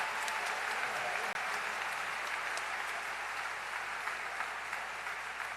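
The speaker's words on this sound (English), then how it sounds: "how about a round of applause for these amazing student leaders and faculty that you have here, right?" Steady, dense audience applause at a university convocation ceremony for student leaders and faculty, a large crowd clapping evenly and continuously throughout.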